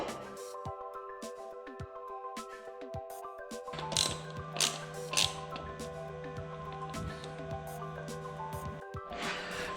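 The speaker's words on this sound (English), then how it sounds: "Install my brake bracket." A ratchet clicks in quick runs while tightening a brake bracket on a stretched 72V QS120 e-bike, close mechanical ratcheting over a steady machine hum, with no talking.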